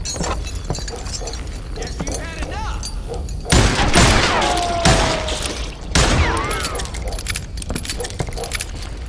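Gunshots from the western shooter video game Call of Juarez Gunslinger, a few loud sharp cracks rising over a busy layer of game sound and ambience, with talk mixed in.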